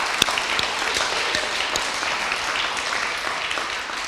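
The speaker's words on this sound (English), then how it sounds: "Yes, round of applause." During an election question-time event, an audience claps after a candidate's answer, a moderate, even spread of applause with a few crisp individual claps standing out.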